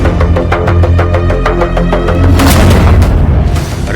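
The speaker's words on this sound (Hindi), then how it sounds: "बम, बारूद और गोलियों की बौछार।" Dense war barrage of bombs and gunfire in a Rafah–Gaza tank offensive, with rapid rhythmic booms and bursts repeating in quick succession, then a heavier blast and rumbling roar, loud and close, no talk.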